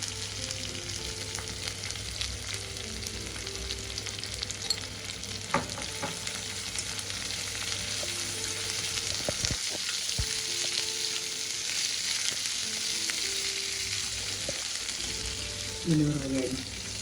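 Broad beans frying in a pan with turmeric added, a steady close sizzle with occasional stirring scrapes and clinks of a utensil against the pan.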